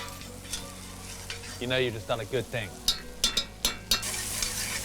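Garlic and onions fry in a pan with a constant close sizzle, joined by a series of spatula scrapes and taps in rapid rhythm; someone talks over the cooking for part of it.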